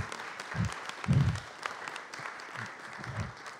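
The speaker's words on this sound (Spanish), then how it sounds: "¿Por qué no le damos un aplauso para empezar simbólicamente esto?" An audience applauds at a talk on journalism, literature and peace, the clapping soft and somewhat distant, swelling and thinning in patches across a few seconds, with a voice faintly present beneath it.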